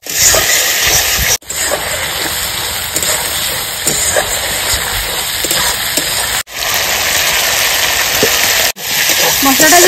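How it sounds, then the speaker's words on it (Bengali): Spice paste with turmeric powder, salt and a little water sizzles and spatters steadily in hot oil while cooking down for a katla fish curry, a continuous close frying hiss with brief breaks. "সামান্য জল, হলুদ গুঁড়ো, লবণ। মশলাটা একটু কষে নেবো ভালো করে আমি।"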